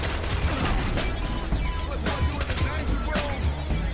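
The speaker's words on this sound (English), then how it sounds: "Fortnite. Shoot my teammates." Dense, continuous gunfire from the video game Fortnite while shooting at teammates, with rapid overlapping shots and game effects forming a busy, loud wash with no pauses.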